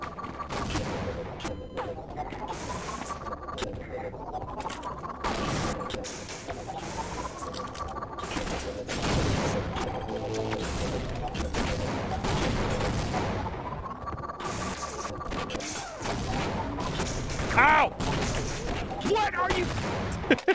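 Rapid bursts of gunfire in a Half-Life: Opposing Force multiplayer match crackle continuously and loudly for the whole stretch, with repeated rising weapon tones and a few chirps near the end.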